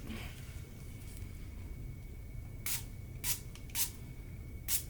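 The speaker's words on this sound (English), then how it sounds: "And spray the film while moving" Four short hissing spray bursts from a pump bottle onto a phone screen protector film, spaced about half a second apart, over a quiet low hum.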